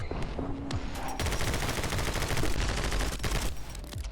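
Rapid, loud shotgun blasts in My Friend Pedro come in quick succession, packed into a dense, booming barrage with short gaps and no speech.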